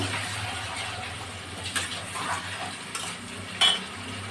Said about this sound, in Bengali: এবার একটু ভালো করে কষিয়ে নিই